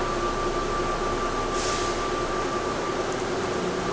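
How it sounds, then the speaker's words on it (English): Steady mechanical rumble and hum of an airport shuttle train pulling away, a continuous, even drone with no talking. "please hold on. This train is departing."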